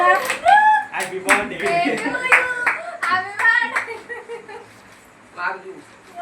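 A few claps ring out among people talking and chuckling at a family Rakhi festival celebration, sharp hand slaps mixed into the close, lively chatter.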